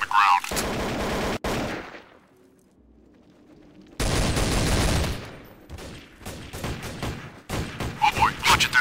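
Gunshots in the video game Counter-Strike: Global Offensive, loud sharp bursts and rapid volleys broken by a quiet gap, then renewed shooting with several crisp single cracks near the end, with no voices over them.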